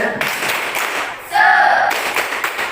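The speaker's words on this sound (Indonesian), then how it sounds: "tepuk semangat" A madrasa class does a rhythmic spirit clap, a few patterned claps followed by a loud unison shout from the students, then more claps.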